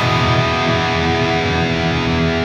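Electric guitar played through a Hotone Ampero's Tube Screamer-style overdrive with delay and reverb added, giving a steady, loud, sustained distorted tone with ringing held notes and no pauses.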